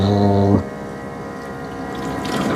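An ECOVACS DEEBOT T20 Omni robot vacuum and mop station gives a loud, droning pump hum that cuts off after half a second, leaving a softer whirring, watery rush that builds again toward the end.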